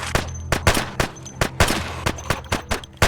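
Rapid bursts of gunfire from the zombie survival video game Project Zomboid, a dozen or so sharp loud shots in uneven clusters over a few seconds with no talking.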